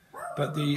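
Dog barking and yipping indoors, short close barks mixed with a person talking over them.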